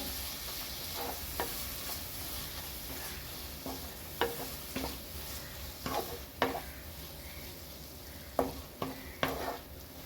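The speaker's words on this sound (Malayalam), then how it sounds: "നല്ലതുപോലെ ഇളക്കി കൊടുക്കുക" Boneless chicken frying in a pan for chicken thoran, a constant soft sizzle punctuated by several sharp scrapes and knocks of a spoon stirring, close and without talk.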